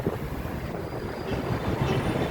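A Manila LRT light rail train rumbling past with a steady rolling roar and rhythmic rail clatter, fairly close.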